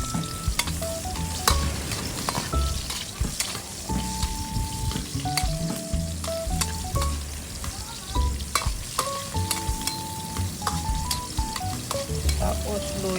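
Garlic and onion sauté in a pan for coconut-milk jackfruit stew, a steady loud sizzle with frequent scraping stirs and spoon clinks near and busy throughout, music-like tonal ticks scattered over it, no talking.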